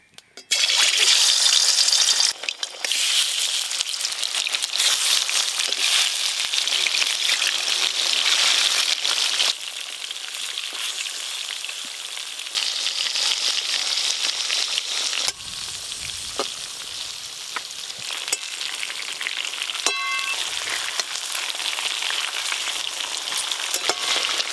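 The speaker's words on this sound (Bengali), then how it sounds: "এবার সব মাছগুলো ভালো করে ভাজবো।" Pieces of aar fish fry in hot mustard oil, a loud continuous sizzle with crackling spatter that dips and swells as the pieces are turned, no talking.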